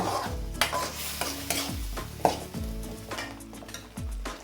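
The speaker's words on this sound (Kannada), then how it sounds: "ಈ ಥರ ಒಂದೆರಡು ನಿಮಿಷ ಹಾಗೆ ಆಯಿಲಲ್ಲಿ ಫ್ರೈ ಮಾಡ್ಕೊಳ್ಳಿ" Ground masala paste frying in oil in a pan for mutton kaima, with a continuous soft sizzle and regular spoon scrapes and stirs against the metal.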